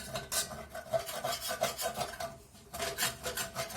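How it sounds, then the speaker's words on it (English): Scraping across the bottom of a pan while cooking a beef Burgundy pie filling, loosening browned bits with flour: a steady, close, rough rasping with a short pause near the end before it resumes. "we're going to add this to the pan and start scraping"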